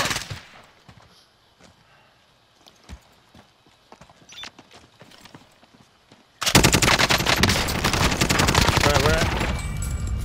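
Gunfire in a multiplayer video game: a few sparse distant shots and clicks, then a sudden loud, sustained burst of rapid automatic fire; voices talk over it.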